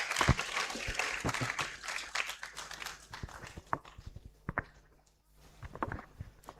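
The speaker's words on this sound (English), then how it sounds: "Let's welcome her with a round of applause." Audience applause at a university awards ceremony in Ghana, dense clapping from a hall crowd that thins into scattered individual claps toward the end, with some room noise.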